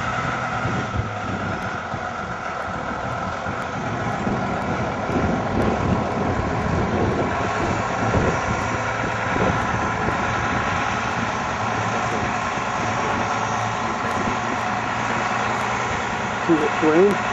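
A tractor engine runs outdoors on a cold day, a steady low rumble mixed with wind buffeting the microphone, continuous throughout at moderate loudness.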